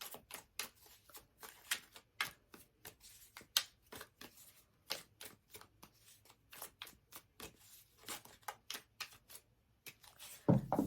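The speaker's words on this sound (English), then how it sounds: "I'm using the Golden Insights Oracle cards. So let me pull 3 cards." Golden Insights Oracle cards are shuffled and pulled by hand, giving quiet, close, crisp bursts of card riffling and flicking in an irregular rhythm.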